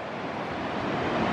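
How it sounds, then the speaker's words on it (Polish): Loud sea surf rolls onto a wide, open beach, a constant broadband roar mixed with wind buffeting the microphone that grows slightly stronger toward the end. "Fale, i długaśne molo, i fale głośne."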